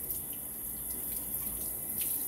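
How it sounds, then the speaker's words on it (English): Tap water runs steadily over a butchered coturnix quail being rinsed in a sink to wash off stray feathers, a constant close hiss with faint splashes and no talking. "Let's give it a quick rinse,"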